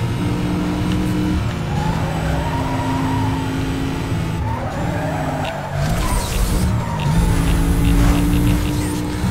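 Car engine racing in Need for Speed: Most Wanted, a steady loud drone of revving and shifting gears running throughout without pause, with occasional whooshes and a brief rumble near the end.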